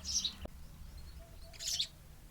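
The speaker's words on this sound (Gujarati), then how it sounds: "જુઓ ભાઈ ઉપર પંખી છે એટલે સકલીના માળા છે ને એમાં આ બચ્ચા સકલીના છે તો એ ખુશી મનાવે છે" Sparrow chicks chirp from nests overhead in two bright bursts of high twittering, one at the start and one near the end, fairly close against a quiet, low background hum.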